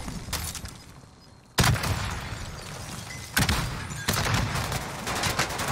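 Rapid bursts of automatic gunfire from a first-person shooter video game, loud and close, with sharp volleys around the middle and near the end over a steady background rumble. No voices.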